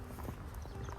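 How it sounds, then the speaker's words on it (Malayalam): A horse walks close by, its hooves giving soft, faint clip-clops over a second against a low, steady background. "ഇത്രയും നാളായിട്ട് വന്നിട്ടും ആദ്യമായിട്ടാണ് കുതിര ഇങ്ങനെ അടുത്തേക്ക് വരുന്നത്"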